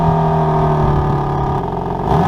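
A BMW G80 M3 Competition xDrive cruising gently in comfort mode with its exhaust valves open, giving a steady, loud, rumbling engine drone from inside the cabin with a slight dip and lift in pitch.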